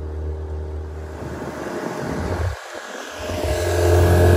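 Outboard motor on a 1998 Carolina Skiff J16 with a rebuilt carburetor runs steadily on the water, a loud continuous drone that dips briefly midway and then swells louder toward the end.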